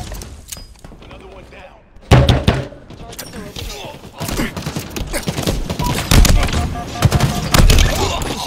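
Gunfire and impacts in the Halo Infinite ranked arena game, repeated punchy shots and thuds, with a heavy blast partway through, mixed with a player talking over the action.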